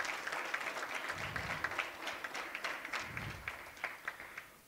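Steady applause from a crowd at an academic graduation ceremony, dense clapping throughout with a few louder bursts, heard at moderate distance.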